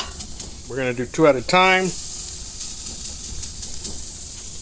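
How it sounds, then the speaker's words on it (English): Pork ribeye steaks searing on a Weber Spirit II gas grill, a steady close sizzling hiss that continues under and after a short spoken phrase. "let's grill these steaks. We're gonna do 2 at a time, and let's hear the sear."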